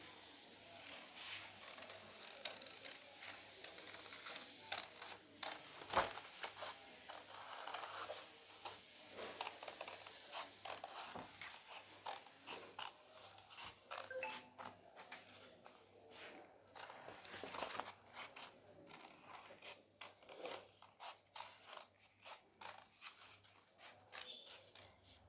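Scissors cutting craft material for a children's toy study-table dustbin, with repeated crisp snips and rustles close by over a constant background hum, with no talking.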